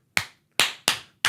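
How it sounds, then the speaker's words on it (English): Four sharp, separate hand claps ring out close and loud in a quiet room, unevenly spaced, each with a short decaying tail. "I started clapping"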